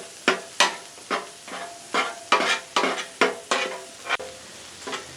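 Garlic frying in oil on a flat-top griddle while it is stirred, a steady sizzle broken by about a dozen sharp scraping strokes of a spatula against the metal, close and clear with no talk.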